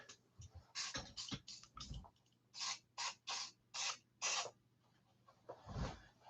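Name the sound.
WD-40 spray can spraying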